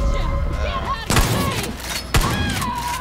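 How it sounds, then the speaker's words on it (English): Two sharp popping blasts from a party popper in the Far Cry New Dawn video game, about a second apart, each a loud gunshot-like crack over continuous game background noise; no one talks. "Was that a gunshot? No, man. Party popper."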